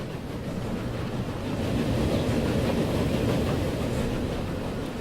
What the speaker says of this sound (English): Look at all these trains coming out.